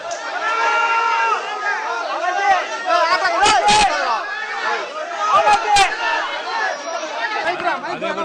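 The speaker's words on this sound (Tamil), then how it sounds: "ரசிகர்கள் ஹாப்பி தீபாவளி தலைவா என கத்தி ஆரவாரம் செய்தனர்" A crowd of fans shouts and cheers greetings for Deepavali, a dense babble of many overlapping voices, loud and continuous, with a few sharp claps or bangs.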